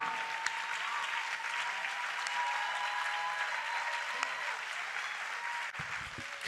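A church audience claps hands in a sustained, dense round of applause that continues evenly for several seconds.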